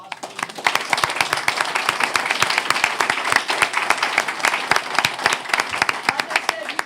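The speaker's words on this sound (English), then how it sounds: "So we want to give you all an applause for being here." Applause from the audience at a town Board of Aldermen meeting, many hands clapping in a dense, steady patter that lasts throughout, fairly close and lively.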